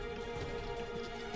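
Steady rain falls throughout a prison escape video game scene, a dense, even hiss of drops on surfaces with no voices over it.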